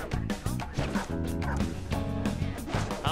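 Dogs bark in the video game Persona 5 Royal, with short yips and barks laid over the game's busy music.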